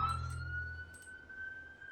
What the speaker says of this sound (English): Got a loud-ass siren in my ear.